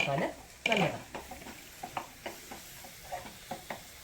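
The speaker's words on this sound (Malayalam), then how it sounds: "ഈ അരപ്പിൻ്റെ പച്ചമണം ഒന്ന് മാറാനായിട്ട് നമുക്കൊന്ന് ഇളക്കി കൊടുക്കാം" Masala paste for a breakfast dish is stirred in a pan, giving soft scraping scuffs and light taps in an uneven rhythm over a faint sizzle, with a voice briefly heard at the start.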